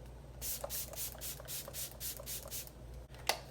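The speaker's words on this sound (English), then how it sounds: "we can fix that using a little bit of setting spray. I'll just use a little bit of MAC Fix Plus" MAC Fix Plus setting spray misted onto a face in about nine quick, soft pumps at a steady rhythm, each a short airy hiss, close and quiet, followed by one slightly sharper spritz after a brief pause.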